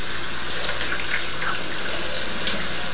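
Hot soapy water running steadily from a tap into a pan in the kitchen sink, a close, continuous hiss and splash with no talk.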